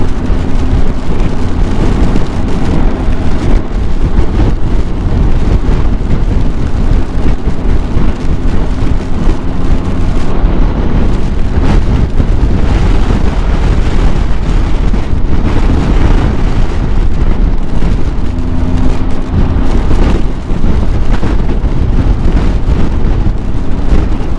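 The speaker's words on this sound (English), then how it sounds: "Pulled off to get out of the wind a little bit, and it was raining hard too." Strong wind gusts batter the microphone while heavy rain pours during a stop on a Triumph Tiger 1200 motorcycle ride, a loud, continuous roaring wash of noise with no voices.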